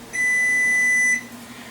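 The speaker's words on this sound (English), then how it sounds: "once your timer goes off, or your oven stops, go ahead and turn your oven off" An oven cook timer gives a single steady electronic beep lasting about one second, loud and close, with a faint background hum and no talk.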